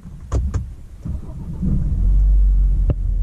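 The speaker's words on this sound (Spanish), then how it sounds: "Entonces primero va a prender el carro" A BMW 1 Series 120i is started with a couple of sharp clicks, then the engine catches and settles into a loud, steady low idle rumble, close by and with no talk.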